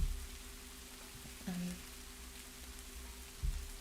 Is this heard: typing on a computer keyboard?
no